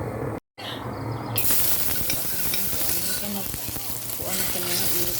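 Leftover rice frying in a little oil, a loud continuous sizzle with stirring scrapes close by, after a brief cut at the start, with a voice speaking over it.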